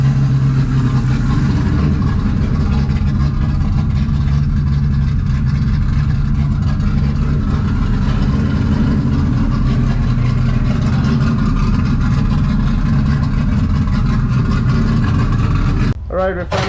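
A Toyota MK3 Supra engine runs close by in a loud, unbroken low drone that holds steady for about sixteen seconds before cutting off abruptly at the end.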